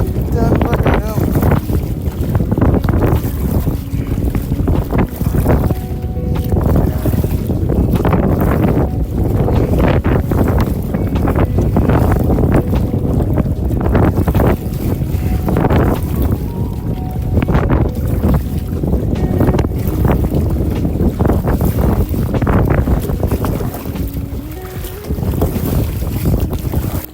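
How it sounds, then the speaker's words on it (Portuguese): Strong wind buffeting the microphone on open water during kayak fishing, a loud, constant roar with gusty surges and water sloshing around the boat. "Tá ventando pra caramba."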